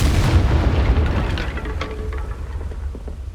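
A Confringo spell in Hogwarts Legacy detonates as a loud, close, deep explosive boom whose rumble decays over a few seconds with small crackling debris.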